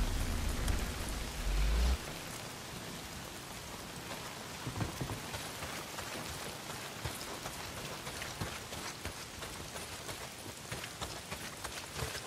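Pouring rain in the video game Days Gone, a steady close patter of drops on surfaces, with a brief low thud at the start.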